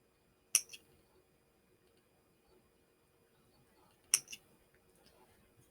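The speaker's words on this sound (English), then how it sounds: "I'm going to snip off the ends that I have already crocheted over" Scissors snip the yarn ends off a crocheted granny square: two crisp, close double-click cuts several seconds apart against near silence, with a third beginning at the very end.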